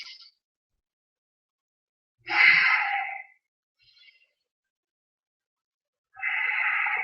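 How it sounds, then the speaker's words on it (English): Forceful breaths out during iron wire kung fu strength training: two long, airy exhales about four seconds apart, close and clear, separated by near silence and a faint short breath. "So you breathe out. 3 breaths."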